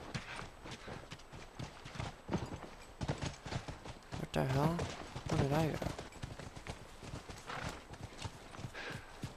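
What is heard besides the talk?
horse hooves clip-clopping, video game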